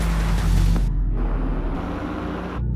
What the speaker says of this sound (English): That is the sound of BMW performance without a single piston or cylinder.